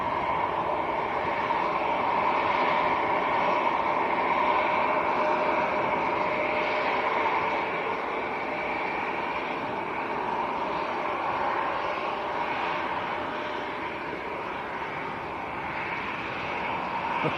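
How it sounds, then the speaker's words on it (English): A small KLM Embraer E175 jet arriving at Manchester Airport, a steady, moderately distant engine hum and whine droning evenly throughout, slowly easing off, with no talk. "KLM just arrived. KLM from Amsterdam. Little Embraer. Small one as well, the"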